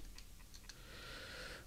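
Computer keyboard typing in the PS1 game Martian Gothic: Unification: a few quick separate key clicks, then a steadier bright electronic tone, fairly close, with no talk.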